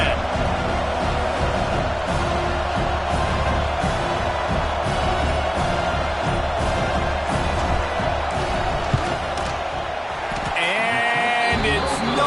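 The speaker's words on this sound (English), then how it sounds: "This crowd trying to do its part to get inside the kicker's head." Football stadium crowd at an Iowa game roaring steadily during a field goal attempt, a dense wall of cheering and noise throughout, with a brief dip and whoops near the end.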